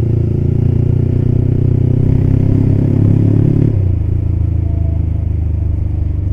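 A motorcycle fitted with an aftermarket Creampie exhaust rumbles along loud and close, a deep steady bassy drone that drops to a lower, softer note partway through as the throttle eases.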